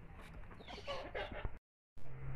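A hen clucking softly while drinking water in a free-range poultry yard, a few close low clucks over steady barnyard ambience, broken by a brief gap of silence.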